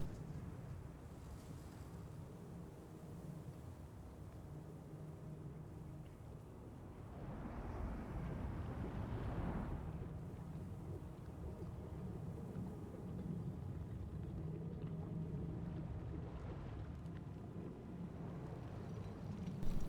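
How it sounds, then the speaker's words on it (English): A steady broadband rush of falling water from a waterfall in the Guild Wars 2 video game fills the whole stretch, with a brief swell in the middle and no speech. "What a phenomenal waterfall there"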